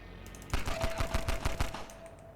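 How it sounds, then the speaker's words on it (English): Video game gunfire, a quick string of about nine evenly spaced shots fired in rapid succession, moderately loud over a quiet background hum, then fading out, with no talking. "The pistol sounds, the way it recoils."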